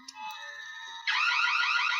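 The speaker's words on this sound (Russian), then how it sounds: "У нас электропривод перекрыл воду и сработала сигнализация." A water leak protection alarm sounds after its sensor trips and an electric actuator shuts the ball valve: a steady electronic tone that switches abruptly into a louder, rapidly warbling alarm, close and continuous with no talking.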